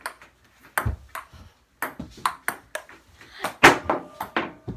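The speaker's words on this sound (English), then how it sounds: "Ping pong." Hollow pings of a ping pong ball striking paddles and bouncing on the table, an uneven rally of sharp clicks with brief pauses.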